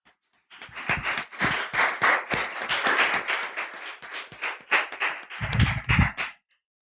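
An audience claps to welcome a speaker at a talk on humanity, a round of hand claps lasting several seconds with distinct individual claps in a loose rhythm, rising slightly near the end before stopping abruptly.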